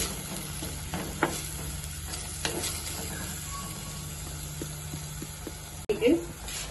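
Onion and turmeric powder stirred in a pan make a soft, continuous sizzle with scattered scraping ticks from the spoon, ending in a short louder clatter; faint talk sits under it.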